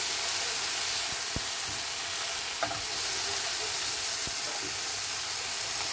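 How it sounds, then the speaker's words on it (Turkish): Tomatoes sautéing in a hot pan, a constant close sizzle and hiss with a few sharp clicks of stirring, no voices. "Üzerine bir kaç tane domates atıyorum. Domateslerimi de soteliyorum."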